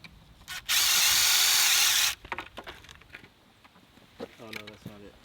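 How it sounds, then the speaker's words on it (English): A power drill bit boring through wood gives one loud, steady whine lasting over a second. Quieter clatter and handling follow, with voices briefly talking near the end. "I was just seeing if the bit would go through wood."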